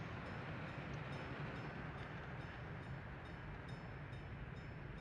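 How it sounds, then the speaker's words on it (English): A train rolls along railway tracks in the Soviet-era city-building game Workers & Resources: Soviet Republic, a steady, continuous low rumble that holds level throughout with no break. "That's a train down here that's making problem again."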